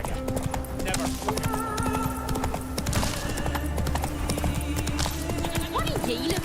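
Roach, the horse in the video game Witcher 3, gallops with a steady clip-clop of hooves under game voices and background score, with a brief whinny-like sound near the end.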